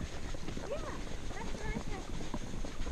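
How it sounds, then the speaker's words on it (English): A horse's hooves clip-clop at a walk around a jumping arena, a steady rhythmic patter close by, while someone talks over it throughout. "So this is Pinta, my new horse."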